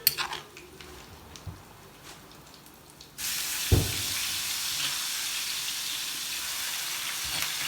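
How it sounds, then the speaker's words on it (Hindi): Chopped onions hit hot oil in a pan for masala-stuffed bitter gourd, setting off a sudden, steady broadband sizzle that holds loud and close after a quieter stretch of faint kitchen sounds, with one soft knock in the middle. "प्याज डाल के हमने इसको अच्छी तरह से भून लेना है।"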